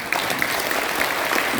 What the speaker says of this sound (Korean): 뜨거운 박수를 보내주시기 바랍니다